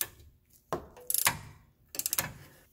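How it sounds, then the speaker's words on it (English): A ratchet wrench turns bolts on a 2001 Subaru Outback during hub and CV shaft work, two bursts of quick close clicking separated by knocks and handling noise. "This sort of wrench ratchet works really well."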